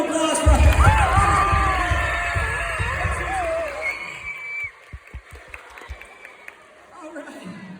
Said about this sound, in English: So give a great big round of applause for